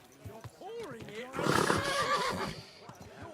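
A horse in Kingdom Come Deliverance 2 lets out a loud, wavering whinny that rises and falls, with a longer, louder burst in the middle, mixed with game ambience and brief snorts.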